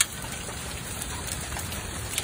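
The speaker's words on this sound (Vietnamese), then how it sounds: "giữa trưa luôn rồi mưa đá ầm ầm luôn vậy" Hail pouring down in Texas at midday, a steady dense clatter of ice striking cars and ground, loud and continuous like a heavy downpour, with no speech.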